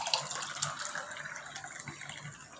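A sattu drink with black salt pours steadily from a mixing vessel into a glass, a close, continuous liquid splash and gurgle for a couple of seconds.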